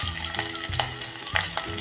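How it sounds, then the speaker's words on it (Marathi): Two green chillies fry in a couple of spoons of oil in a pot for a fasting-day varai upma tempering, giving a steady close sizzle with brief stirring scrapes, no talk. "त्यामध्ये टाकूया ह्या दोन हिरव्या मिरच्या"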